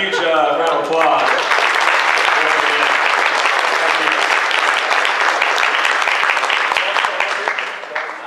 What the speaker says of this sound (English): Give these gentlemen a huge round of applause